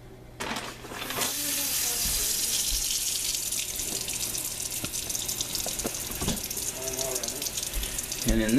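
Water runs steadily from a kitchen tap into a sink over shrimp and Dungeness crab, a close continuous rushing hiss with brief clinks and handling noises, and a voice talks faintly at moments.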